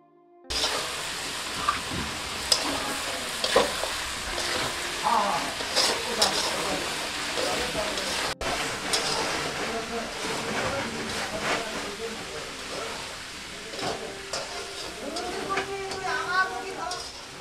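Food fries in a pan with steady close sizzling, hissing and occasional stirring clatter, while people talk over the cooking throughout.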